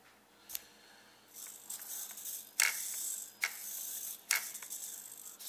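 Steering servos on a small RC rock crawler whir in several short, faint bursts, each a brief mechanical grinding buzz separated by quiet pauses, close up.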